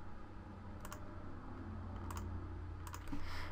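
Computer mouse clicked repeatedly while working in Photoshop, a few faint sharp clicks spaced apart over a quiet background hum.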